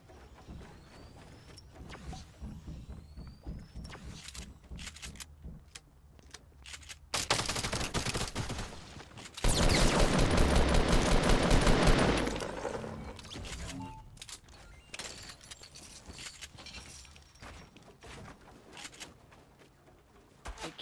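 Rapid bursts of gunfire in Fortnite Battle Royale rattle loudly for a few seconds, with scattered single shots and in-game sounds before and after.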